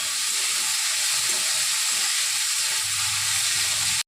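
Vegetables cooking in a pan give a steady, loud, broad hissing sizzle that holds evenly throughout and then stops abruptly, close up with no talking.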